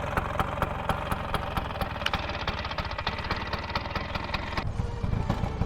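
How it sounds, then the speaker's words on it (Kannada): A 1991 Bajaj scooter's engine idles close by, a rapid, steady putter of regular firing pulses with a mechanical rattle, running alone without talk. "ನೋಡಿ ಇಂಜಿನ್ ಸೌಂಡು ಎಷ್ಟು ಸಖತ್ತಾಗಿದೆ"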